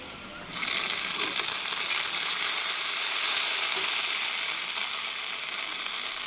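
Garlic is frying in a pan when ginger is added, and a loud, steady sizzle suddenly swells and then holds, crackling close by. No one speaks.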